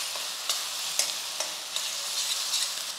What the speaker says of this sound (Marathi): आता यामध्ये घालायचं आहे आलं लसणाची पेस्ट, थोडीशी कोथिंबीर आपण फोडणीतच घालू म्हणजे तिचा स्वाद चांगला येतो. याला परतून घेऊ अगदी 2 मिनिटासाठी.